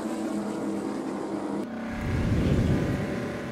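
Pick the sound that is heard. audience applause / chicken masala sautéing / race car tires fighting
race car tires fighting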